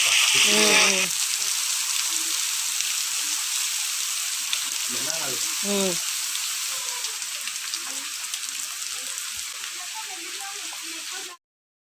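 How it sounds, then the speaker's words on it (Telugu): Falling water pours continuously at a waterfall by the Ahobilam temple, a dense steady hiss close at hand, while people talk briefly over it near the start and middle. "ఆ వాటర్ సౌండ్ ఎలా వస్తుందో గమనించారా ఫ్రెండ్స్"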